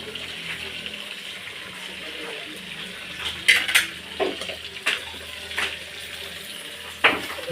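Breakfast food frying in a pan gets turned over, a soft steady sizzle under sharp scattered clinks and scrapes of a utensil against the pan, close and fairly quiet, with a voice speaking briefly.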